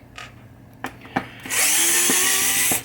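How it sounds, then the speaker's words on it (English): A power driver unscrews fasteners from the ball saucer base on a 1976 Williams Grand Prix pinball playfield, a close, loud whirring burst after a few sharp clicks and knocks. "We got 4 screws we're taking out"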